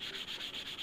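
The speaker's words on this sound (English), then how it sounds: "you can do as little or as much sanding as you like" Sandpaper rubs back and forth over a wooden glider wing to shape an airfoil taper, a soft steady scratching in short, even strokes.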